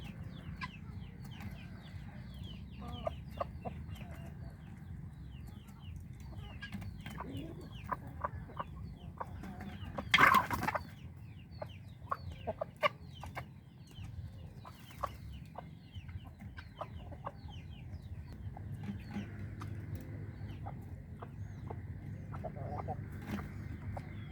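Guinea fowl and chickens cluck and call in a farmyard, with scattered short calls over a steady low ambient rumble and one louder burst near the middle.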